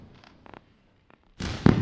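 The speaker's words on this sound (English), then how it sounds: "Fireworks." A fireworks celebration effect starts with a few faint crackles and pops, then a sudden loud burst of bangs and sizzling crackle fills the last half second.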